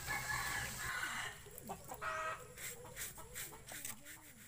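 Bantam chickens in a backyard coop, giving soft scattered clucks and short calls at close range over a steady background hum.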